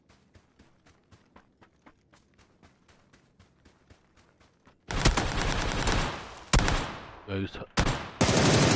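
Faint rhythmic clicks give way to loud bursts of PUBG: Battlegrounds gunfire and crashing noise on PS5, with brief voices in between.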